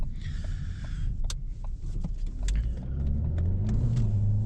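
A turbocharged 1.6-liter four-cylinder engine in a 2014 Ford Escape SE hums and rumbles steadily, its pitch climbing as it revs up, heard from inside the cabin with faint clicks.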